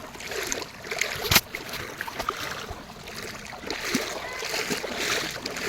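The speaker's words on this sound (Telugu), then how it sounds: "చూడండి ఫ్రెండ్స్ మోకాల లోతులో నీళ్ళు పోతున్నాం మనమైతే" Footsteps slosh and wade through knee-deep water, with irregular splashes and a sharp splash near the start, moderately close over a watery background.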